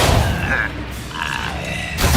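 Expelliarmus spell cast during combat in Hogwarts Legacy: a loud booming impact followed by a whooshing magical sweep, a second thud near the end, with combat voices mixed in.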